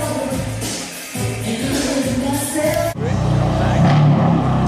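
A wrapped BMW M3 engine rumbles up close, the note swelling as it revs and then settling into a heavier, deeper drone, with people talking around it.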